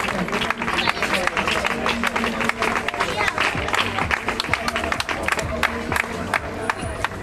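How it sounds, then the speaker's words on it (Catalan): Crowd applause and cheering at an outdoor mini dual bike trial event during a town fair, with steady clapping and voices mixed throughout. "un fort aplaudiment per Daniel, que ha fet molt bé."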